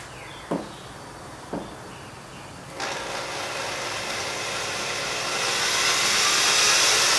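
Power drill boring a hole into a plastic vacuum attachment to fit a hard-floor tool, starting after two sharp taps with a steady, rising whir that grows louder toward the end, no voices.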